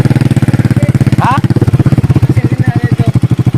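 Motorcycle engine idling up close with a loud, steady, rapid putter, while voices talk over it in short bursts.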